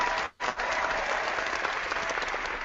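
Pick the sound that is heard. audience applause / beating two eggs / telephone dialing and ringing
audience applause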